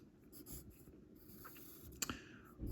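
Pen or marker writing out a math expression, with short scratchy strokes in quick bursts, close and fairly quiet, no talk.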